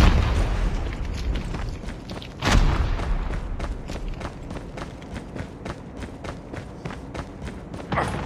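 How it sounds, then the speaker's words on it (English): A frag grenade goes off in a tactical shooter game match, one heavy boom about two seconds in, followed by a rapid stream of close gunshots and footsteps. "Frag out!"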